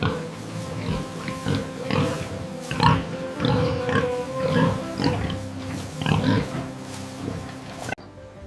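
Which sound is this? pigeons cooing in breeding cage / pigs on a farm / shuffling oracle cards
pigs on a farm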